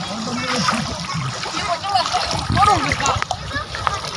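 A motorbike is pushed through fairly deep floodwater on a wheel-assist tool, with continuous splashing and sloshing close by while people talk over it.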